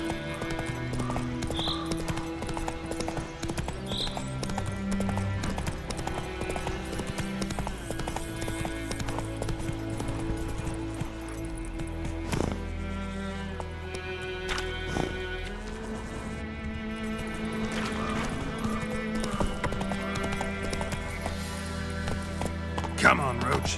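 Roach the horse gallops in The Witcher 3, hoofbeats clopping rapidly and continuously under game music, with a voice speaking over the action now and then.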